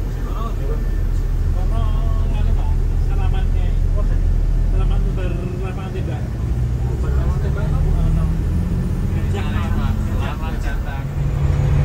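Inside the cabin of a New Armada-bodied coach bus at high speed: a constant loud engine rumble and road roar fill the space, with people talking over the noise for most of the stretch.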